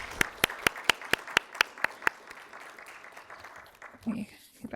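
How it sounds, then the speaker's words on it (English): About ten sharp, evenly spaced hand claps from a forum audience ring out in a steady rhythm and then stop, followed by a brief voice. "Let's just give Emily one more round of applause"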